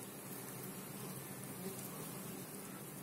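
A steady, faint buzzing of many honeybees carrying pollen at a hive in August, a continuous insect hum with no clear breaks.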